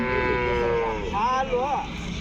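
A Jersey cow moos loudly nearby at the Punganur cattle market, one drawn-out low call rising and bending in pitch, heard alone against a faint background.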